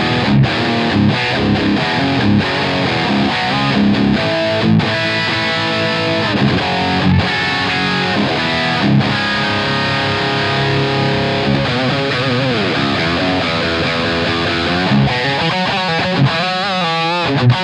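Heavy, fat distorted electric guitar tone played through an amp captured by a TwoNotes Captor X with EQ engaged, dense sustained chords and riffs at steady loud level, ending in more melodic sustained notes, with no talking.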